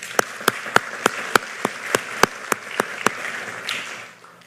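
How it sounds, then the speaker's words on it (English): Clapping at a tech conference session, with a few sharp, evenly spaced claps standing out close by over a thinner bed of wider audience applause that dies away near the end. "let's give all of them a round of applause"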